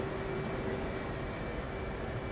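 A warbird propeller aircraft engine idles in the DCS flight-simulator game, giving a steady, even drone with a constant tonal hum and no voices.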